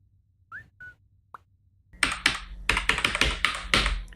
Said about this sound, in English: they're hearing your fucking key clicks